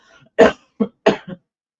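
Two short, sharp coughs close to the microphone, each followed by a softer catch of breath.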